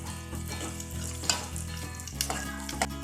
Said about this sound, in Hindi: प्याज को हम कच्ची पक्की फ्राई कर लेंगे।